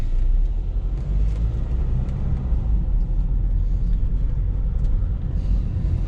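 A red 4x4 Jeep drives slowly down a narrow street, its engine a steady low rumble that stays close and even throughout, with no talk.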